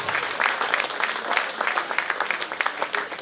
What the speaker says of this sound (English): Let's give these two girls a big round of applause.